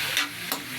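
Chicken afritada pieces being sautéed in a pan, with two brief stirring scrapes over a steady, low sizzle, close and moderately quiet.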